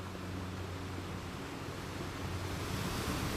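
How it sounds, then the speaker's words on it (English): Waves lap against a ship at sea, a soft continuous wash of surf and wind noise that swells slightly toward the end, with no voices. "hearing the waves lap against the ship"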